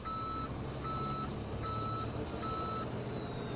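A GMC dump truck in Farming Simulator 17 sounds its reversing alarm: steady, evenly spaced high beeps repeating loudly over a constant engine drone, with no talk.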